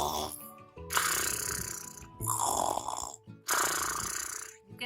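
A voice imitates loud snoring with nasal pig-like grunts and horse-like lip flapping, in three or four long rough bursts separated by short silences.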